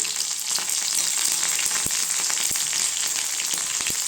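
Dried red chillies, onion and curry leaves sizzle steadily in hot oil for a tiffin sambar tempering, a dense continuous frying hiss with a few soft stirring clicks, close up and with no talking.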